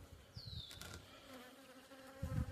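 Close, steady buzzing of honey bees, a queen with her nurse bees at a new hive, with a few louder passes flying near, plus faint low bumps in the background.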